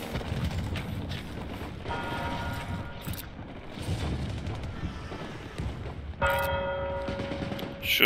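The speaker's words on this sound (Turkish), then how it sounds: "Şurada çan çalıyor." A church bell rings in Death Stranding amid a busy game soundscape, with a few bright metallic strikes rising out of rumbling background noise, the clearest and most sustained toll arriving near the end.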